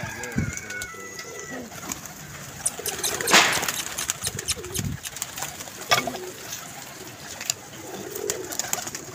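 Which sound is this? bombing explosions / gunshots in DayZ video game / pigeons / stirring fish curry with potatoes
pigeons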